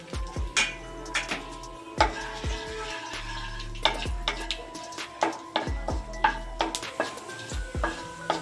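Whole spices, bay leaf, dried red chilli, cumin, cardamom and cloves, fry in oil in a pan on low-to-medium gas, a soft sizzle broken by repeated sharp knocks of a utensil against the pan.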